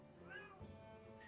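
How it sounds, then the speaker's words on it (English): A cat meows a couple of times indoors, a short rising cry fairly close and clear, with faint room noise around it. "I hear the cat."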